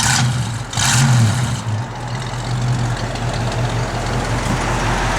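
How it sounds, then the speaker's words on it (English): A Ford C-code 289 two-barrel V8 runs nearby with a deep, steady engine tone, swelling briefly near the start before settling into an even drone. "Give it a little rev, Jordy."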